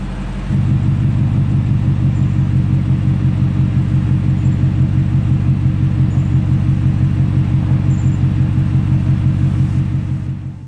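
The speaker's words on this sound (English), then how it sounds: "here's a driving clip of how it sounds like inside the vehicle" Steady low engine rumble from a Ford Raptor R truck heard from inside the cabin while driving, a constant loud drone that holds evenly for the whole stretch with no talking.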